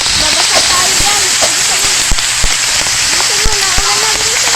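Rain falling outdoors at a house in the Philippines, a steady broadband hiss with scattered sharp drips and taps, while a voice talks and calls out over it.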